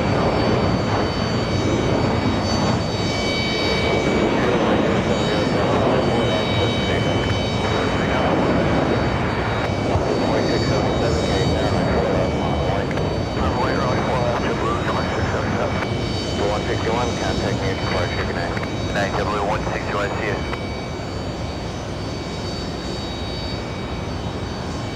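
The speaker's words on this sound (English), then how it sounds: "we have the Iranian A340 taking off in just a few moments." An Iran Air Airbus A340-300 takes off at JFK airport, its engines a loud, sustained roar that holds for the whole stretch and eases slightly at the end, with voices talking over it.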